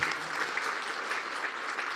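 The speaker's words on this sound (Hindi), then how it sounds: "हम लोग कम से कम ताली तो बजा दीजिए एक बार।" An audience applauds after a devotional bhajan performance, giving a dense, even patter of many hands clapping. The clapping stays steady and moderately loud for a couple of seconds.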